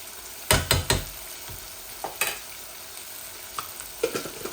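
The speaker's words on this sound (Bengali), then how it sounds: "এখন আমি আদা রসুনগুলা দিয়ে দিচ্ছি।" Grated ginger and garlic frying in a pan: a constant soft hiss of hot oil beneath several quick clattering strokes of a spoon, clustered early and then scattered.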